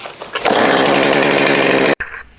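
A gas chainsaw bites into a tree during felling, its engine surging to a loud, steady high-revving roar that holds nearly two seconds, then cuts out abruptly and drops back to a lower idle.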